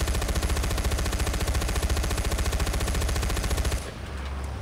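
Rapid automatic gunfire in the open-world shooter Far Cry 4, a loud, close, steady stream of shots for several seconds that cuts off abruptly into quieter background ambience.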